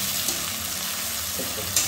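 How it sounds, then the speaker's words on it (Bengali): A short burst of continuous, close-up sizzling as onions fry over a full flame in a hot pan, with a faint scrape or two. "এটা ফুল ফ্লেমে ভাজতেই থাকবে"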